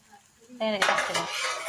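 Onion and potato frying in a pan, with a loud sizzle starting partway through and continuing steadily as the pieces go into the hot oil, plus clinks of a utensil against the pan.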